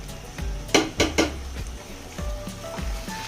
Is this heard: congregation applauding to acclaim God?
no